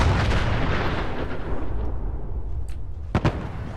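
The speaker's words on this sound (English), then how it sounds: "Those explosions look really good" Explosions in the video game Fallout 4 open with a loud, heavy booming rumble that slowly decays, followed by a couple of sharp blasts near the end, with no speech.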